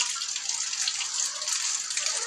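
Rain falls steadily outdoors with a dense, even hiss that holds unbroken and fairly loud throughout.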